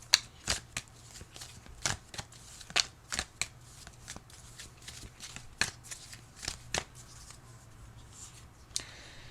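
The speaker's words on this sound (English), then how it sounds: "I will shuffle, and then we'll pull a card for you." Tarot cards are shuffled by hand in a steady run of crisp riffling snaps, close and moderately loud, repeating about every half second with no talking.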